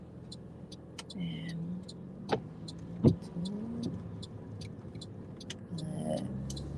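A car interior during a driving lesson as the vehicle approaches a stop sign and turns right, with a low steady road and engine rumble, a few faint clicks and thumps, and a voice speaking quietly.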